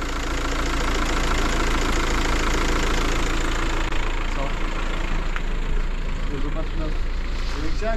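A car engine, started without pressing the clutch, idles with a rough, continuous close rumble, while people talk over it.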